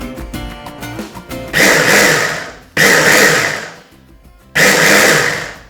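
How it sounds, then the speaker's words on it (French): A blender mixes lime juice and honey for homemade sour candy, roaring loudly in three bursts of about a second each with short pauses between them. "On va mixer notre préparation."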